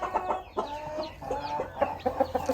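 A Thai game fighting rooster, a Koi Ngon breeding cock, clucks in a short series of close, choppy calls with brief gaps between them and no talk over it.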